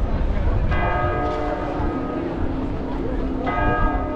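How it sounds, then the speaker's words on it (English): Church bells peal in Bologna, Italy, a dense layered ringing of several bells sustained throughout, heard outdoors amid street noise. "the bells are ringing"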